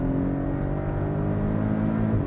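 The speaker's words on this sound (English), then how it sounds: "the engine note behind you is such an underrated experience factor for the Cayman" A Porsche 718 Cayman S with a turbocharged four-cylinder boxer engine and PDK gearbox accelerating hard, a loud, steady engine drone heard from inside the car with no voices.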